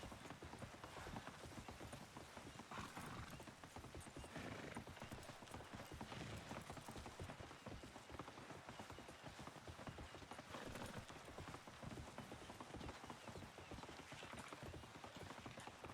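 Horse hooves canter in Red Dead Redemption 2 on the WildRP roleplay server, a rapid, even clip-clop that runs unbroken for the whole stretch at a quiet, close level.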